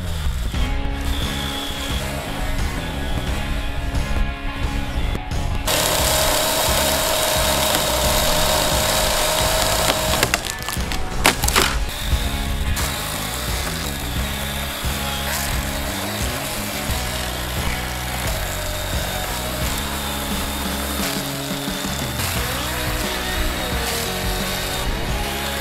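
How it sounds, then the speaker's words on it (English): A 20-volt DeWALT cordless chainsaw runs steadily, chewing through wood with a loud buzzing rasp that shifts in pitch as it cuts. "can cut with this chainsaw on two charges"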